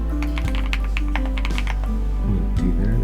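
Fully keycapped Chilkey Paw65 mechanical keyboard typed on in a quick test, with a rapid, uneven run of close keystroke clacks over a low steady hum.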